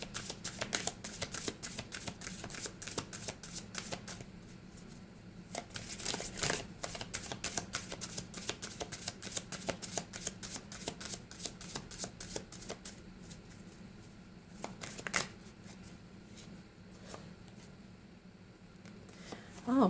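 Oracle cards, a chakra intuition deck, shuffled by hand in a tarot-style reading; soft, rapid riffling and slapping card sounds run through, close and fairly quiet, with a few louder bursts.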